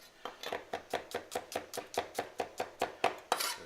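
A knife slices garlic on a cutting board in a quick, even series of about fifteen crisp taps at a steady rhythm, close and moderately loud with no talking.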